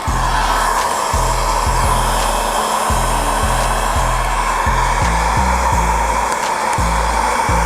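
A heat gun blows hot air onto vinyl wrap film on a 2006 Chevrolet Trailblazer SS. It is a loud, steady close-up whoosh and hum, with the motor pitch stepping up and down repeatedly as the gun is worked.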